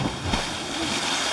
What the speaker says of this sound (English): Here we go, the big splash.